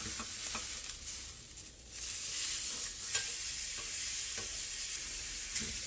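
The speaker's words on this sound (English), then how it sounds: "add your steak to a very hot pan. Cook for 3 minutes and then flip it over." Steak sears in a very hot pan with a constant crackling sizzle, broken by a few sharper pops and spatters, close and fairly quiet, with no voices.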